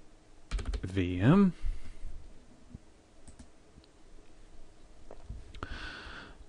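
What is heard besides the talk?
typing on a computer keyboard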